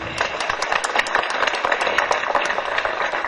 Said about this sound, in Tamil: நல்ல கரகோஷம் கொடுங்க